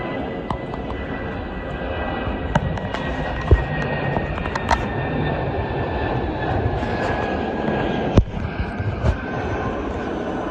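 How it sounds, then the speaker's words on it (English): A British Airways Airbus A319 takes off at Heathrow Airport with a broad, rumbling jet roar at moderate distance, broken by scattered sharp clicks and pops close by. "Now we have a British Airways Airbus A319 to Belfast taking off."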